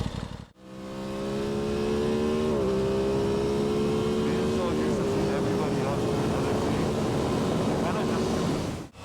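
Aprilia Tuono 660 motorcycle riding at night, a steady loud engine drone with harmonic tones stepping up through gear changes, rising and settling after a brief dip at the start, continuous and close with road and wind noise.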